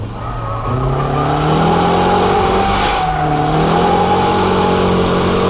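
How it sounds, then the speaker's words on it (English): A car engine revs loudly and close as the car performs a fake drift, pitch climbing in rising sweeps, dipping briefly, then climbing again. "Next up is the fake drift, where you create large weight transition by force."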